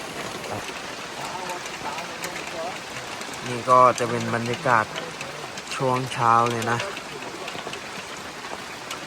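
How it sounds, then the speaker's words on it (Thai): Steady hiss of rain falling on a durian orchard deep in the forest, with a person speaking over it in the middle. "เมื่อคืนเนี่ยฝนก็ตก บอกเลยยังไม่หยุดเลยตอนนี้"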